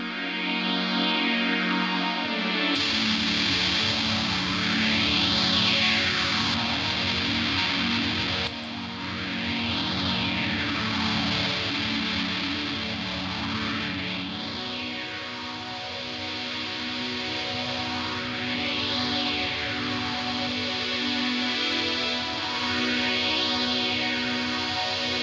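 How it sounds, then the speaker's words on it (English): A reamped electric guitar runs through a distortion effect, playing sustained chords with a swirling, repeatedly sweeping modulation and a dense, buzzy tone throughout, with no voices. "We can even do that same thing again if we wanted, and maybe add some distortion to it."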